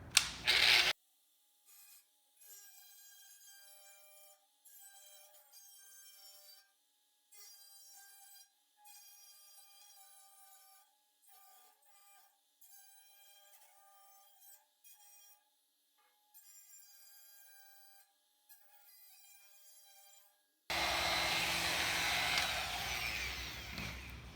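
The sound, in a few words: cutting Mustang convertible inner rocker panel metal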